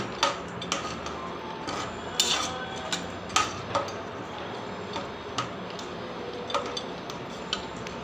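A spoon stirs vathal kuzhambu, a tamarind curry, in a metal pot, giving light, fairly regular clinks and scrapes against the pot close by, with a steady soft background underneath.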